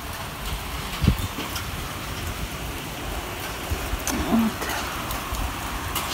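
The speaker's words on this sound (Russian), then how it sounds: "а дождь наяривает без остановки." Steady, dense rain hisses without a break, close and fairly loud, with a few faint thumps and rustles mixed in.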